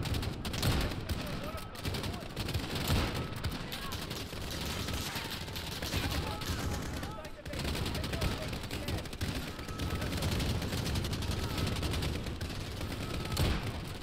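Rapid bursts of rifle fire from a sniper-focused Call of Duty: Modern Warfare campaign mission on PS5, repeated shots with mechanical clatter and reload clicks over a steady game soundscape.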